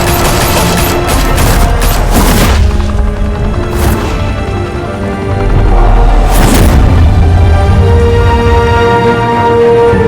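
Gunfire in a shootout from the video game Batman: The Telltale Series, with loud repeated bursts and cracking volleys and a few heavy booming hits across a busy, constant battle.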